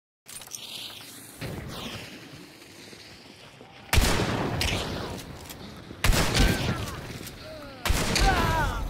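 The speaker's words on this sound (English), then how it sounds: "Oh, he had a real shotgun." Shotgun blasts firing slugs in the Hunt Showdown shooter: three loud booming shots land about two seconds apart, each followed by crackling echo, after quieter gunfire and a softer first report, with sparse voices underneath.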